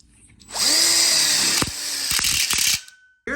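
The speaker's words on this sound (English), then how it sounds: "So first we screw into the coupler and then we screw in these 2." A power drill drives a screw into a corner module, spinning up with a rising whine and then a steady, loud grinding buzz with ratcheting clicks before stopping abruptly.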